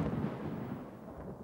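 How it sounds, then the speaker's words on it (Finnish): Low, muffled rumble of distant thunder in a Peppa Pig cartoon, soft and far off, tapering off gradually. "Äiti, ukkonen jyrisee kovaa."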